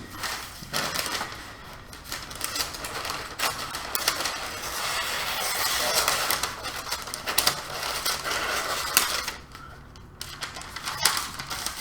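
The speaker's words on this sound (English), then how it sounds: "You can hear me cutting my parchment paper." Scissors cutting parchment paper at a miniature painting desk, a run of crisp snipping and rustling close by, steady across the stretch with brief pauses.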